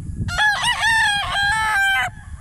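A broadcock rooster at a Bohol game farm lets out one loud, close crow lasting about two seconds, with faint background noise beneath.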